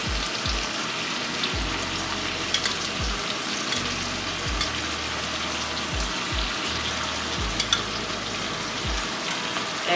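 Pork steak meat sizzles steadily in a hot frying pan, a dense crackling hiss broken by a few soft low knocks, with no voices.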